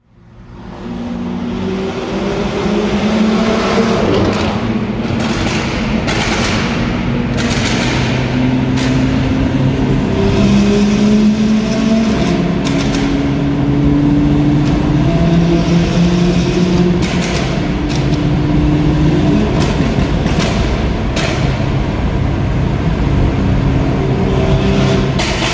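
A BMW 2 Series in Mineral Gray Metallic revs its engine nearby, loud rising and falling pulls with a rough exhaust rasp and a few sharp pops over a steady roar.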